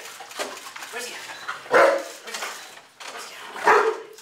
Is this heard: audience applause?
no